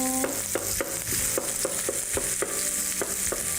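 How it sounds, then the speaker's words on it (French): Onions cook in oil or butter in a pan for a burger recipe, giving a steady sizzle broken by regular utensil scrapes and taps about every third of a second. "Puis juste les oignons qui sont en train de cuire, hein?"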